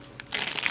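Plastic packaging of Faberlic pens is crinkled and crushed close by, a brief tap followed by a dense, loud crackling rustle.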